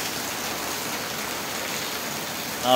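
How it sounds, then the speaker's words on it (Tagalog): Heavy rain falls during a typhoon, a dense, steady hiss of downpour filling the whole stretch, loud and unbroken, with a brief bump near the end. "sobrang lakas lang din talaga ng ulan ngayon guys"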